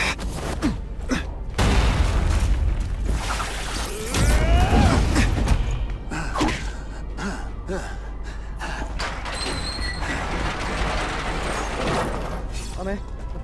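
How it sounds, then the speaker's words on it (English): A seismic blast in The Amazing Spider-Man 2 video game, with a booming rumble and creaking, slamming impacts rising in the middle, amid busy game effects and a voice. "Neither does the seismic blast."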